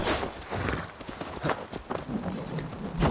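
Rapid hoofbeats of a galloping horse in the video game Assassin's Creed Valhalla, a quick uneven drumming of thuds over a few seconds, close and fairly loud.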